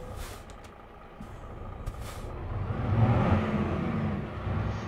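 A Peterbilt 579 truck engine of about 410 horsepower in American Truck Simulator rumbles loudly, swelling as it revs up mid-way, with short airy hiss bursts from air brakes near the start and no talk.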